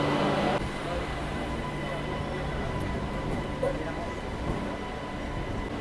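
A local train pulls out of platform 15 at Howrah Junction station, a loud steady rumble of rolling carriages with a sharper onset at the start and faint higher squeals over the continuous roar.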